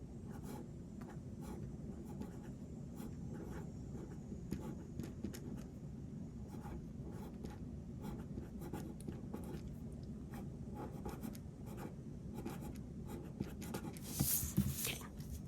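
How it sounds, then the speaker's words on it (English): Pen scratching steadily across the pages of a teacher planner, faint and continuous, with small repeated strokes over a low background hum and a brief brighter rustle near the end. "And then we'll write habits of the month."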